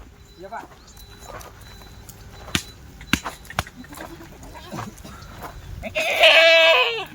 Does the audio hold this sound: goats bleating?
yes